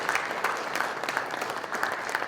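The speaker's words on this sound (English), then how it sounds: "That's a round of applause for Corey." Steady applause from an audience honoring Corey at a presentation on the HERO Act for servicemembers and veterans, dense, continuous clapping held at an even level throughout.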